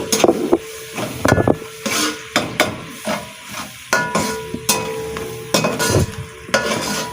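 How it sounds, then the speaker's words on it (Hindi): Chicken frying in a pan with garlic ginger paste, stirred with a utensil: steady sizzle under repeated sharp scraping and clanking strokes, close and fairly loud. "इसमें डाल देते हैं लहसुन अदरक का पेस्ट, इसको हम अच्छे से भूनेंगे।"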